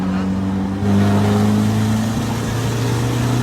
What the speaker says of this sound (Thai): เอาเกียร์สามไปฟังเสียงเครื่องดีๆ กดไปกดให้สุดเลย